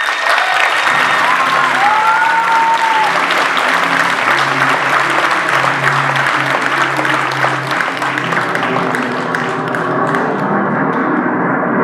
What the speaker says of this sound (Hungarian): Most pedig fogadják sok szeretettel és nagy tapssal Mary Poppins Csillagai című